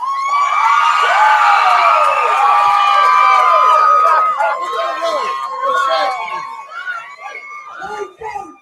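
A live boxing crowd at the Bridger Brawl roars with a mix of cheers, whoops and shouts as a fighter is named, loud and close, the noise swelling then thinning into scattered yells.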